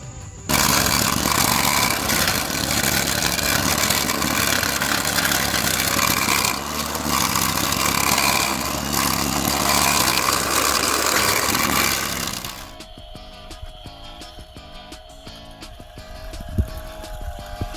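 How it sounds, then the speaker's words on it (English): Battery-powered string trimmer whirring loudly and steadily as its spinning line cuts grass and weeds, then cutting out and leaving quieter background sound. "This is a battery-powered weed eater. It works by using a thick string that spins very fast to cut through weeds and grass."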